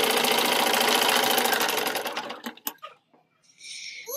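A sewing machine runs steadily and loudly, stitching a side seam with a double row on newborn baby cloth, then stops abruptly and leaves a few soft clicks and handling noises.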